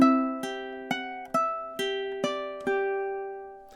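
A ukulele plays measures 5 and 6 of a song, seven evenly spaced strummed chords ringing out one after another, close up and alone, the last chord left to fade.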